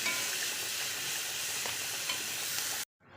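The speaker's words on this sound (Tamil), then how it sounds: "வெங்காயம் கருவேப்பிலையும் போட்டுருவோம் நல்லா வணங்கட்டும்" Onions and curry leaves frying in a pan for egg masala, a steady close sizzle with faint stirring scrapes that stops abruptly near the end, no voices.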